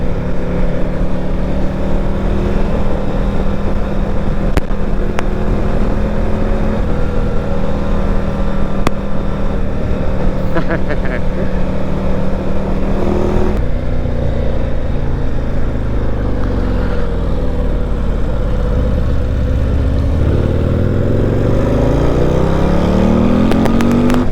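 A 2026 Harley-Davidson Street Glide 135 motorcycle pulls in second gear from a slow roll, its loud V-twin engine drone rising steadily in pitch under heavy wind rush.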